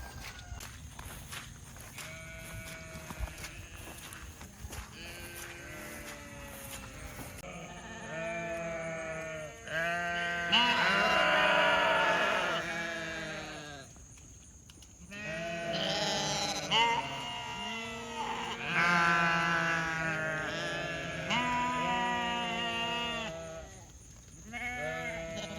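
A flock of sheep sheltering in trees during a hurricane, bleating repeatedly in overlapping calls of varied pitch, some loud and close, others farther off. Rustling and footsteps sound between the cries.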